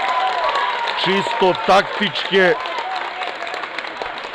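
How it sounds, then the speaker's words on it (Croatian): Applause from the stands at a football cup final in Pirot as a player is substituted, steady and moderate, heard beneath a commentator talking. "Pešić dobija veliki aplauz"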